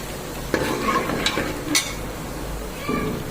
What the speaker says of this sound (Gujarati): તો તેલ આવી ગયું છે હવે આપણે વઘાર કરવા માટે નાખી દઈએ